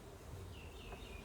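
Honeybees buzz softly at an opened hive as a box is lifted off, a faint continuous drone with a few higher whining passes of single bees close by.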